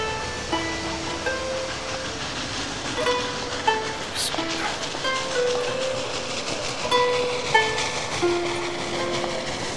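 A train rolls past steadily with rhythmic clickety-clack and metallic squeals, fairly close and continuous, in a period drama scene.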